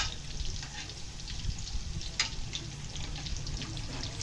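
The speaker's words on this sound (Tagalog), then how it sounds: "Pagka medyo ma-brown na po yung kabilang side, baliktarin lang po natin para maluto ang kabilaan." Tofu frying in a pan, a steady close sizzle and crackle that holds throughout with faint scraping now and then, and no voices.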